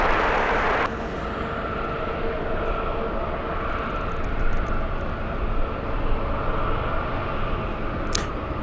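An Airbus airliner on final approach to land at LAX gives a steady, broad jet roar that holds throughout, with a sharp hiss burst at the start and a brief click near the end.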